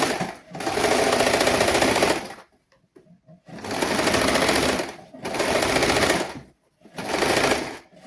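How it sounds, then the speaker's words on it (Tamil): A sewing machine stitches fabric for girls' clothing during a basic tailoring lesson. Four bursts of rapid, close mechanical stitching are separated by short quiet pauses. "இந்த மார்க் பண்ணின இந்த இடத்துல நாங்கள் இனி தைக்க போகிறோம்"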